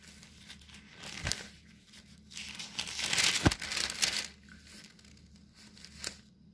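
Paper pages of a Bible being turned and crinkled by hand, a few soft rustles and crisp flicks with sharper snaps near the start, middle and end, close and moderately quiet with no talking.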